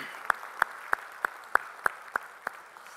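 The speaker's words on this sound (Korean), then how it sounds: "우리 찬양을 받으실 주님께 영광의 박수 올리겠습니다." A church congregation at a Sunday worship service claps in unison, eight sharp, evenly spaced claps in a steady beat, fairly close and distinct over a quiet background.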